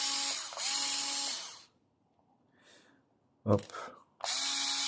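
FERM cordless screwdriver driving a screw, a close, steady whirring motor in three runs separated by a quiet gap with a brief spoken word and a knock.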